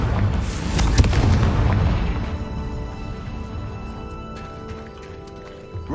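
A Confringo fire spell explodes in the Hogwarts Legacy video game: a loud, booming blast rolls in at once, peaks sharply about a second in, then fades into a lingering rumble.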